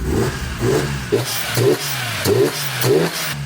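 BMW Z3 M Coupe S54 engine from a flood-salvaged car, heard up close as a run of about five quick throttle blips that rise and fall over a smooth idle, with no talk.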